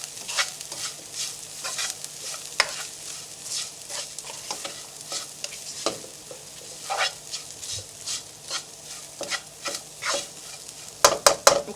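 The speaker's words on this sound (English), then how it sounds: "You're just going to stir fry that for a few minutes so that all the spices and the curry leaf flavor can get into the plantain." Plantain stir-fries in a pan with spices and curry leaves, giving a steady sizzle broken by frequent scraping and stirring strokes. Utensils clatter against the pan throughout, and a few sharp knocks come at the very end.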